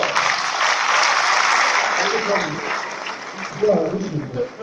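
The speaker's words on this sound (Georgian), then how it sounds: "მოგვრეთ ამ ადამიანს განსაკუთრებული ტაში" An audience applauds in a Georgian quiz-show final, steady clapping filling the room at full strength before thinning out, with a voice speaking over it.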